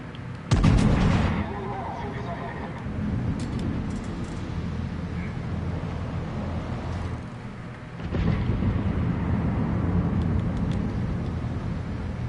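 Battleship artillery in the naval combat game World of Warships: two heavy booming salvos, one at the start and one later, each followed by a long rolling rumble over continuous low background noise.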